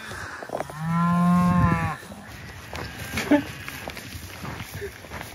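A cow moos once on a trail in the Uinta mountains, a loud, drawn-out call heard up close, followed by faint rustling and footsteps in the open air.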